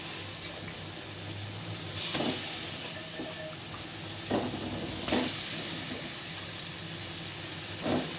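Pieces of a large snakehead fish go into a pan of cooked spice paste for dopiaza and sizzle steadily, with louder bursts of spattering and stirring at intervals and no voices.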